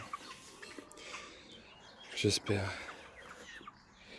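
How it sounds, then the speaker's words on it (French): Hens and small chicks cluck and cheep in a backyard pen, with scattered faint peeps and a couple of louder clucks near the middle, mostly quiet and a little distant. "là les petites cocottes, petits poussins"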